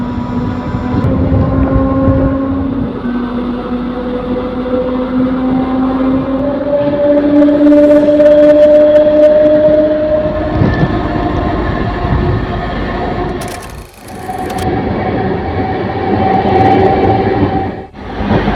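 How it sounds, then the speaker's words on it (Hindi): A MEMU passenger train pulls out of Semra railway station, heard from on board: a loud, sustained rumble with a rising motor whine that climbs in pitch as it accelerates, punctuated by brief clanks and a short dip. "2 मिनट होल्ड के बाद अपनी ट्रेन का डिपार्चर हो"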